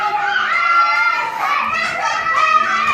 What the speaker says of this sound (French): Là, vous pouvez entendre les enfants